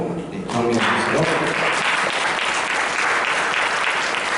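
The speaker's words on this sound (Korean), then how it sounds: "일어나시면 환영의 박수로, 경의 박수로" A church congregation breaks into warm, sustained applause welcoming newly appointed members, rising quickly after a brief voice at the start and holding steady and close.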